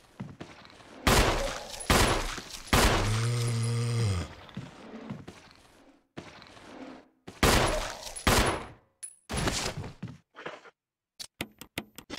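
Gunfire rings out in the Resident Evil Remake video game, several loud sharp shots in separate bursts mixed with heavy game sound effects and a low groaning tone.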